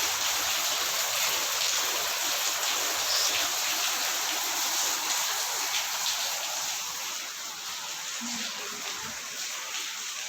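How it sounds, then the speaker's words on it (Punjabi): A dense, steady roar of heavy rain pouring down, loud and continuous with no voices, easing slightly toward the end. "ਬਹੁਤ ਜ਼ਿਆਦਾ ਮੀਂਹ ਹੈਗਾ"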